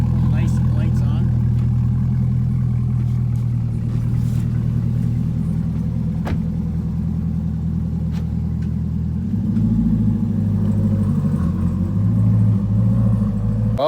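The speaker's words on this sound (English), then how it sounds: "what do you guys think about the LeMans Edition C8 exhaust?" A Corvette C8 Stingray LeMans Edition with center exhaust idles with a steady deep rumble, then the engine note shifts and rises as it revs near the end, loud and close throughout.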